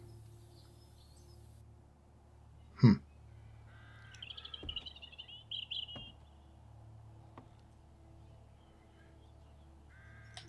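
A vulture in 7 Days to Die lets out a single sharp, loud caw, followed by fainter chirping calls and scattered small clicks over a quiet, low ambient hum.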